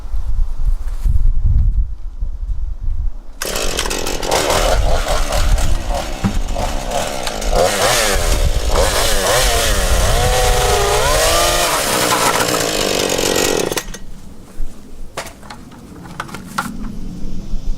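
A chainsaw cuts through plastic at a ranch, revving loud and close for about ten seconds with a wavering engine pitch as the blade bites. Quieter handling noise comes before and after.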